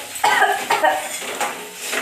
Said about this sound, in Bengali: পেঁয়াজ আর লঙ্কা ভাইছে।